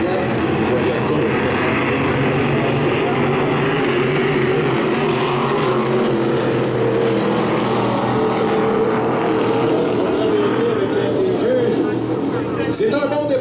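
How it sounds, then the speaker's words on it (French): Hydroplane racing boats in the Hydro 350 class roar away at a race start at Valleyfield, a dense, continuous engine drone with spray-like hiss, loud and sustained throughout. "Les embarcations sont extrêmement rapides."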